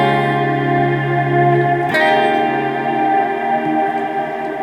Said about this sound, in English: That way you can have your reverb kind of fade in behind your playing.